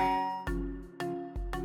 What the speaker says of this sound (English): As I was relaxing after dinner thinking about that, the doorbell rang.